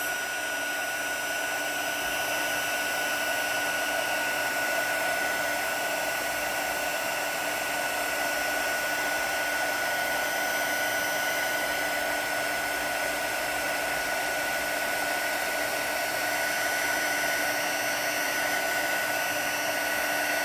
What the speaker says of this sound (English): Okay, we're going to emboss this.